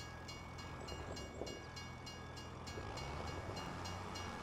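In the farming game Farming Simulator 25, a train rolls past at a level crossing with a steady, continuous rumble. A sustained whistle-like tone and faint rhythmic clatter run through it, and nobody speaks.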